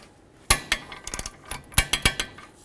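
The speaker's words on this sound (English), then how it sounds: "Torque it down to 30 foot-pounds." Torque wrench tightening an outer tie rod nut on a 2008–2012 Jeep Liberty, a series of sharp metallic clicks and ratchet taps coming in quick irregular bursts, close and fairly quiet.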